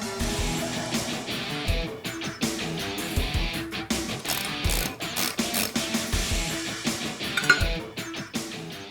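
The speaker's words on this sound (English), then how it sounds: "Next, using a 9/16 socket and a short extension and your breaker bar, remove the 3 bolts that are holding the pulley onto the harmonic balancer." A breaker bar with a 9/16 socket and short extension loosens the three bolts holding the pulley to the harmonic balancer on a Chevy 350 small block, giving repeated close metallic ratcheting clicks and clinks.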